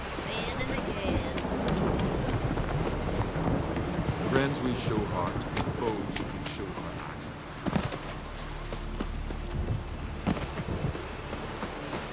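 Steady rain with low rumbling thunder in The Witcher 3, a continuous wet hiss throughout, while a character speaks over it.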